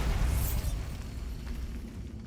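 A Bombarda blasting spell goes off in a Hogwarts Legacy game: a loud, deep boom with a rumbling burst at the start that slowly fades into a low, lingering roar.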